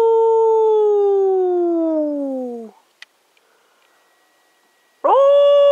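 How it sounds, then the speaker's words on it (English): A dog howls at midnight in a yard two days after the solstice: one long, loud, slowly falling howl with a few faint clicks after it. Then a second howl starts abruptly near the end. "we're going to call on a midnight howl from the yard"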